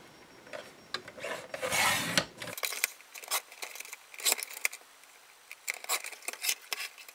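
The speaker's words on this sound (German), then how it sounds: "wenn du diesen Papierschneider hast, dann schneide ihn bei 2 Inch" A paper trimmer slices through craft paper with a raspy, scraping cut that swells and ends abruptly, followed by scattered light rubbing and handling noises of the paper.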